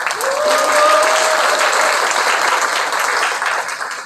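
A crowd applauds at a Cheongju labour committee launch ceremony, steady loud clapping from many people in a hall, holding for a few seconds before gradually fading out.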